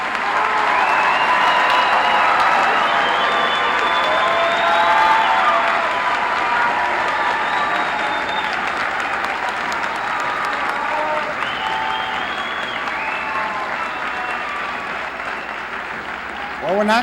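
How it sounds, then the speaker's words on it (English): Sustained applause from a large crowd for graduates at the 2014 Jefferson College commencement, a steady dense roar of clapping with whoops and shouted cheers carrying over it for the whole stretch. "Let's give our graduates one more round of applause"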